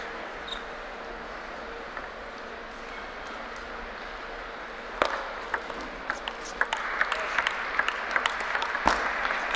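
Crowd clapping breaks out in a hall during a women's singles table tennis semifinal at the US Nationals, starting as sparse claps and building into steady applause, with sharp ball pings ringing out above the background murmur.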